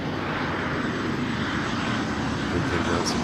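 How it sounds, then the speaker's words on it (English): A fixed-wing airplane passes overhead during a golf broadcast at Royal Troon, its steady engine drone loud and continuous throughout, with no talk over it. "I don't think that's a train, that's a plane this time."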